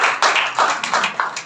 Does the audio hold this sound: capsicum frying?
no